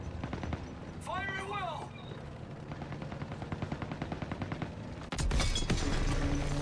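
Rapid small arms gunfire in a WW2 campaign video game, steady rattling bursts over a dense battle din with a brief whistling streak early on and a louder blast near the end.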